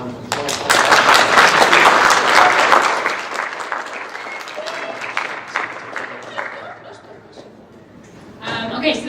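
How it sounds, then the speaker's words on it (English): Audience applause at the close of an entrepreneurship competition, loud dense clapping at first that thins out into scattered claps and crowd murmur, with voices talking toward the end. "And everyone, please give a round of applause."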